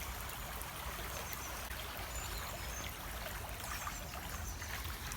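Steady, close babble of a small stream flowing at a walking spot, broadband and even throughout with faint trickling detail and no voices.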